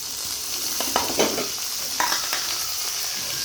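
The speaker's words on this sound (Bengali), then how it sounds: "এটা গরম হয়েছে, আমি বাদামগুলো ভিজিয়ে রেখেছিলাম দিয়ে দিলাম" Soaked peanuts frying in hot oil on a hot tawa give a steady close sizzle, with a few short stirring scrapes and crackles rising above the hiss.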